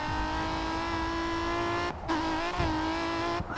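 Tyres squeal as a race car slides with little traction in the GRID 2 racing game, a steady engine drone with a held squeal that dips and wavers in brief breaks, loud and close with no talk.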